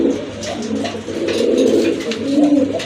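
Domestic pigeons kept in a pair for sale, cooing in soft repeated throaty bursts, close and fairly loud with no other sounds.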